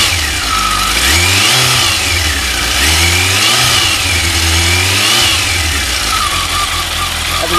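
Kawasaki ZX12R motorcycle engine, freshly fitted with new spark plugs, revs up and falls back several times in a close, loud rising-and-falling roar between steady idle stretches, no talking.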